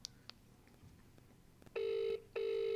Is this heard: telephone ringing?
yes